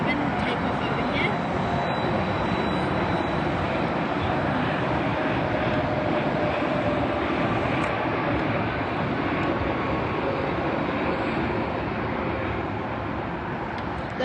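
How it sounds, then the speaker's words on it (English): An American Airlines Boeing 787 takes off at Los Angeles airport, its engines a loud, continuous broadband roar that holds steady throughout, with voices faintly audible under the noise. "Now we have an American Airlines 787 takeoff over here."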